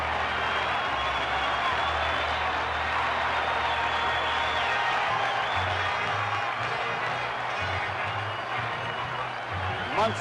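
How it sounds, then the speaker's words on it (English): A baseball crowd at the 1976 World Series applauds Thurman Munson as he comes to bat, giving a sustained, dense wash of stadium clapping and cheering that holds steady throughout with low rumbling underneath. "Should get a nice hand from this crowd."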